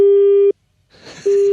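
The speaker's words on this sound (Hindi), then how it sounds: "वो टेलीफोन लाइन कट गई थी मेरे ख्याल से" A steady electronic telephone tone sounds loud and close during a radio prank call, cuts off briefly around a faint crackle, then resumes, like a disconnected-line signal.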